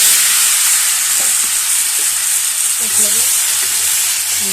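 Vegetables fry with dried fish in a pan, giving a loud, even, close-up sizzle that hisses without pause, with faint scattered knocks underneath.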